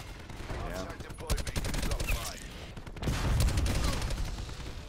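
Gunfire in a Call of Duty-style multiplayer shooter, as repeated rapid automatic bursts with clustered sharp cracks, loud and close, dipping briefly before a heavier stretch of shooting.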